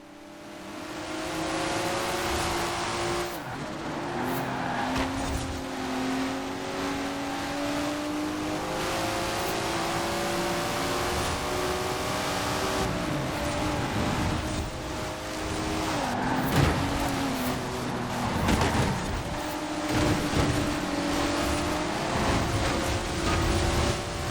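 A Nissan Skyline GT-R engine in Forza Horizon 4 revs and accelerates steadily for the full stretch, with rising and falling gear pitches, occasional tyre skids and no talking.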